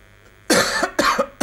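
A few harsh, close coughs in quick succession, each a sharp burst, following a brief quiet moment.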